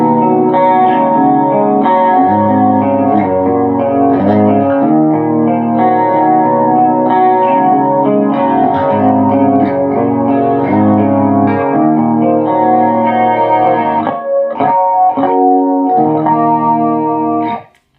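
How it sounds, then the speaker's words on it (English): Electric guitar playing chords through the stereo chorus of a Zoom G2.1u pedal, steady and loud, with a wavering, doubled tone; the playing stops abruptly near the end. "It's a stereo chorus."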